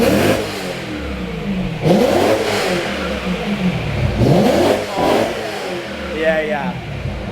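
A BMW E90 M3 fitted with an Akrapovic exhaust revs repeatedly nearby, several rising engine sweeps and blips in sequence, with people talking over the sound.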